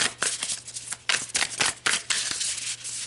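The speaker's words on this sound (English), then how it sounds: "let's pull a couple more cards" Cards being drawn from a deck during a tarot reading, a run of crisp, close slaps and riffling swipes in uneven bursts, with no talk.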